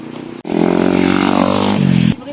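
A young rider's small motorcycle revs hard close by, a sustained rising buzzy engine roar lasting about two seconds before cutting off sharply, heard near a radar station on Koh Samui.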